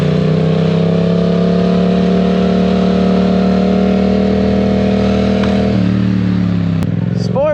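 A 2022 Yamaha R7 sport motorcycle engine drones loud and close at a high steady rev, then the pitch drops and blips briefly near the end.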